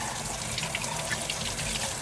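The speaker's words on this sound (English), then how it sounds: "You want to wash your asparagus with some cold water." Asparagus is washed under a cold running kitchen tap, giving a steady close trickle and splash of water with small irregular spatters as the spears shift in the stream.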